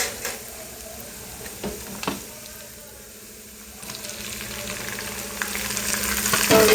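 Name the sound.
tomatoes frying with onions and green chilies for chicken curry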